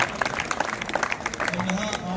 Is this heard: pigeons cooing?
no